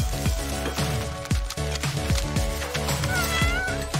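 A cat meows and caterwauls loudly and close over a steady bed of background music, with repeated drawn-out cries throughout.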